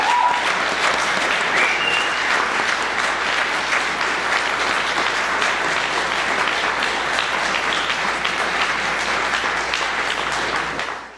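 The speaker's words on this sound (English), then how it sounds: "Please join me in a big round of applause for Anita Schnacker." A large audience at a Nordia House celebration and appreciation event gives a loud, dense round of applause that holds steady for about eleven seconds before cutting off abruptly.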